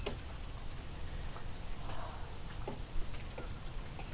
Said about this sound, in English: I could just sit out here all day listening to the rain